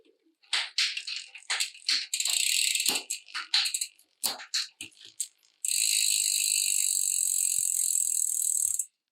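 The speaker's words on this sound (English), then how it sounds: "I'll just check through the gears, make sure they are changing smoothly" Bombtrack bicycle gears shifted through during a check, giving a run of quick ratcheting clicks and rattles, followed by a steady, loud whirring of the spinning drivetrain.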